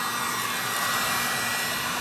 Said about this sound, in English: No, put the heat gun on.